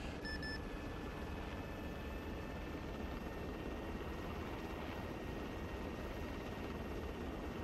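A helicopter lifting off in a video game: steady rotor and engine drone fills the whole stretch, constant and unbroken, with a faint high whine on top and no talking.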